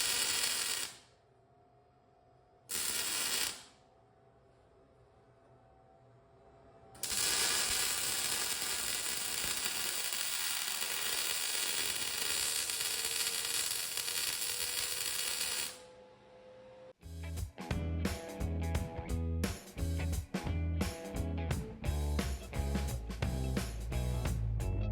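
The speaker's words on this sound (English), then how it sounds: "So I think it is just to go ahead and weld that up right there." Broadband welding hiss and crackle on a steering pivot joint for a two-stroke Yamaha outboard motor, steady for long stretches with brief pauses between beads, then followed by a run of sharp, dense clanking and tapping.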